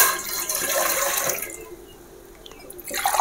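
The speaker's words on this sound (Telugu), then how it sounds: "దానికి కొలతలు వేసి నీళ్ళు పోస్తున్నా" Water pours from a glass into a pot of soaked rice for ragi sangati, a loud splashing stream for about a second and a half, then quiet with a few small drips and clinks.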